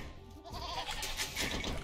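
Sheep bleating in the Age of Empires II strategy game, a short wavering call rising over steady game ambience and music, moderately loud and alone.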